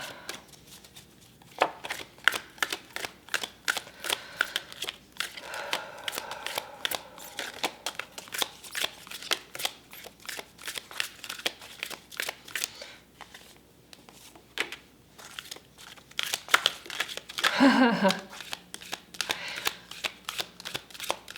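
Tarot cards being shuffled during a pick-a-card reading, a long run of rapid, crisp riffling flicks with short pauses and a busier burst near the end, close and clear with no speech.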